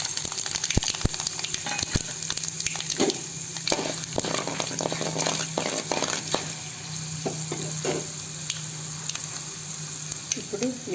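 Mustard seeds and chana dal sizzle and crackle steadily in hot oil for idli upma, a continuous frying hiss with scattered sharp pops and occasional stirring scrapes, close and fairly loud throughout.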